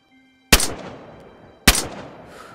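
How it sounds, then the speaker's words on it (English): Two loud, sharp gunshots ring out about a second apart, each followed by a short echoing tail, as zombies are shot in the survival video game DayZ. "You're shooting zombies now."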